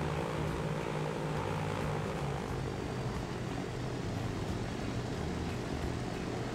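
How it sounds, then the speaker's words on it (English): A Douglas DC-3 propeller airliner in the Transport Fever game flies with a steady, droning engine roar that stays loud and even, with no speech. "Wow, that plane doesn't much care for the hills."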